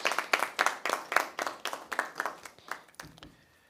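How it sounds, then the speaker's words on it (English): A small group claps for a short while at a press conference, a loose, rhythmic run of distinct claps that thins out and stops near the end, with no talking. "I think we should all give them, a round of applause for their work"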